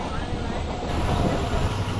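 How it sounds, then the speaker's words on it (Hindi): The Sukkur Express passenger train rumbles steadily as it picks up speed, a dense, loud wash of rolling wheels and carriage noise heard from inside. "अब ट्रेन आहिस्ता आहिस्ता एक्सीलरेट कर रही है अच्छी स्पीड में आने के लिए"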